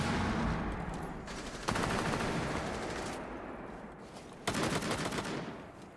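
Gunfire crackles through a competitive video game match, a near, loud automatic burst at the start, followed by further rapid volleys and a second sharp burst later.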